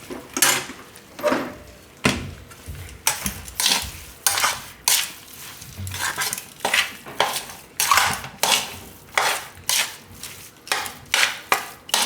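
A spoon repeatedly scrapes and clinks against a pan while a jaggery mixture is stirred for sukhdi, a rhythmic series of metallic strokes close by with no talking.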